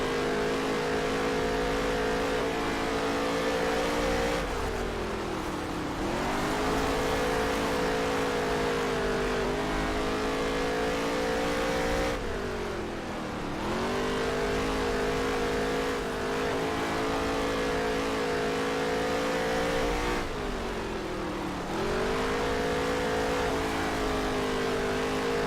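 A NASCAR Heat 3 race car on the Las Vegas dirt track in an Xtreme Dirt Tour event, its engine droning loudly and continuously, with periodic dips and revs as it lifts and accelerates through corners.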